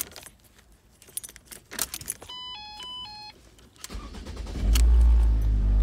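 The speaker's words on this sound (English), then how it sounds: "okay, the engine is running" Keys jangle, then the engine of a 2011 Ford Transit Connect turns over and catches, settling into a loud, steady idle close by.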